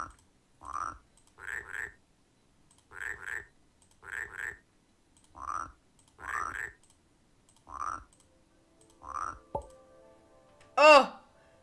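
A frog flute croaking in the video game Rusty Lake Paradise gives about a dozen short, clear croaks, alone or in pairs at a steady, unhurried pace. A brighter rising chirp closes the sequence.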